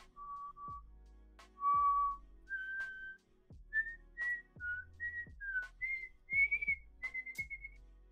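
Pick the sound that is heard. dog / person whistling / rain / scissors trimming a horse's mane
person whistling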